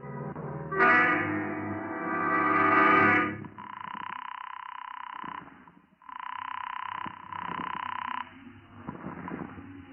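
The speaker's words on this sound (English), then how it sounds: "I looked up the number of a local chemist, and I made a phone call." A telephone line tone followed by a low buzzing ring that repeats in long pulses, heard as if through a handset, with faint clicks between.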